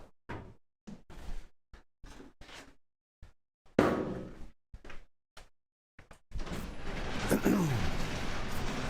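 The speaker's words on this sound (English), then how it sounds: "I guess I'll just open the garage door and wheel it around." A garage door in a home garage housing a classic car: a series of separate knocks and clunks, then a loud, sustained rolling rumble during the last few seconds as the door opens.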